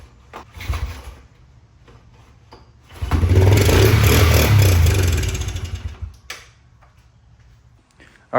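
A 1998 Honda TRX 90 ATV engine briefly pops over on starter fluid, giving a loud, close sputtering burst of about three seconds that follows clicks and cranking and then dies away.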